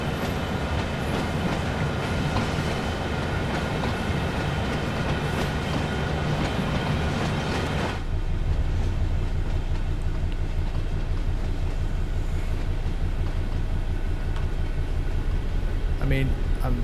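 A Class 66 diesel freight locomotive hauling a heavy load in Train Sim World 4, a steady loud rumble with rail noise that continues throughout, shifting in tone midway, with no talk over it.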